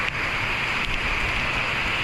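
Steady, dense rain hiss fills the air, a constant wash of falling water with no talking.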